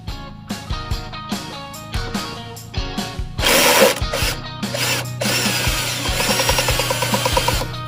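Power tool drill driving bolts out of lawn equipment, with repeated short whirring bursts in a steady rhythm, then a longer continuous run near the end, loud and close with no talk.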